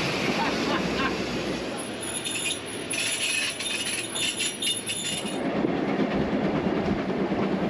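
A steam train on the Isle of Man Steam Railway rolls steadily along the rails with a continuous rumble and rattle, brief high squeals of wheels in the middle, and faint voices in the background.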